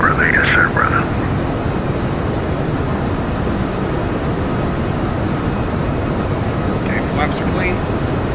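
Jet engines of an Airbus A340-600 in X-Plane 12 roar as a steady broadband rumble through departure, loud and unbroken, with brief radio-style chatter near the start and end.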